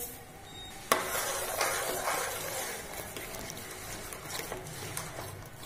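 Semolina halwa with sugar stirred on a gas stove, a steady scraping and shuffling of spoon against pan after a sharp opening knock, with a faint sizzle underneath, moderately close and without talk.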